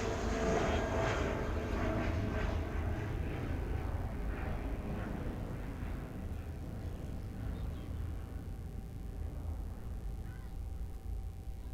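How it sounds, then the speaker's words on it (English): A United Airbus A319 jet at Nashville International Airport gives a distant, faint, broad engine roar that slowly fades, with no speech over it. "This is United 1830, an A319 headed to Washington Dulles."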